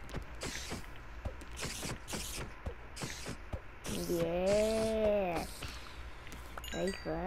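Meows from a cat in the video game Minecraft rise and fall in a drawn-out cry and a short second call, amid clicks, scattered game effects and speech-like sounds.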